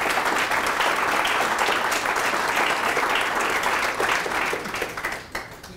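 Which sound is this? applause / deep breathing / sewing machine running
applause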